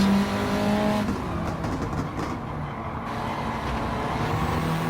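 In Gran Turismo 7 at Laguna Seca, a race car's engine roars steadily and loudly, pitch dipping then rising again as the car brakes and accelerates through a corner, with no voices.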